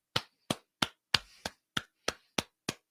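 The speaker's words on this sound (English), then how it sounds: "Give you a little clap on that one." Nine sharp, evenly spaced hand claps from a single radio host, close and dry with short decays, forming a slow steady rhythm.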